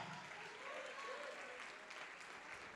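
A church congregation claps together in steady, dense applause, sustained and fairly faint, with a murmur of voices mixed in.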